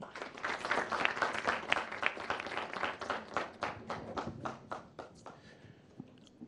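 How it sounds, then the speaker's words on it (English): A fair audience gives a round of applause welcoming a speaker, a crowd of hands clapping in a quick patter that thins into a few scattered claps and dies away. "With a very big round of applause, please help me to welcome Godwin Ejejemfi"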